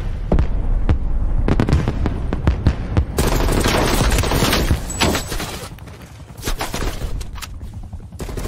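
Rapid automatic gunfire in Call of Duty Cold War multiplayer, loud bursts of close shots and scattered single cracks in dense clusters, with a steady hum of game background sound behind.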